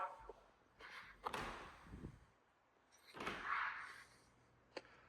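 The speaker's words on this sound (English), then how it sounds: "Here is a double door closet." Double closet doors in a beach house bedroom are opened, with soft thuds and sliding rattles in two separate bursts, quiet and close in a still room.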